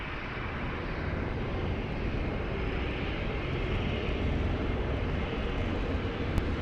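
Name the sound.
airplane taking off from runway 20 at Lisbon Airport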